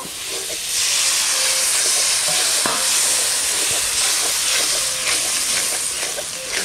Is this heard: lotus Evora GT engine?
no